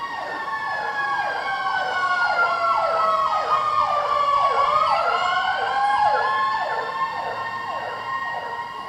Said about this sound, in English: the siren going off to my left.